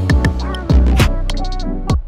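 Several short musical hits from a music production session, each trailing off into a lingering reverb tail, without volume automation, that rings on after the sound stops.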